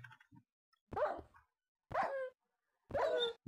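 Dogs in the Minecraft game bark three times, with evenly spaced single yaps that sound close and clear against near silence.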